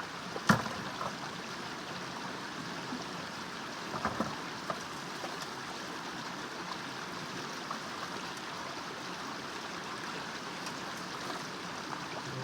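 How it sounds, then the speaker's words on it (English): Water rinsing a gold-prospecting sluice box, a Micro Banker high banker fitted with a Dream Mat, sounding as a steady, even wash of running, splashing water throughout with a few small knocks. "Just give your box a good rinse."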